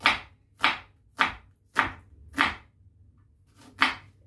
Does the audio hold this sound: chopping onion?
yes